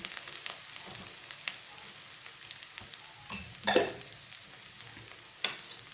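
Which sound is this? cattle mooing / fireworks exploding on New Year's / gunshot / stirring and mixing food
stirring and mixing food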